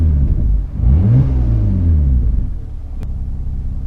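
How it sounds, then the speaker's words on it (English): A manual-transmission car engine is revved in neutral, a low rumble that rises in pitch with the throttle, then settles back to a steady idle, close and fairly loud. "just rev the engine a little bit"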